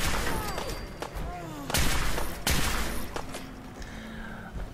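Gunfire from an invisible settler robot in the Fallout video game, a series of sharp shots at irregular intervals over a busy, noisy game soundscape, with several loud bursts standing out.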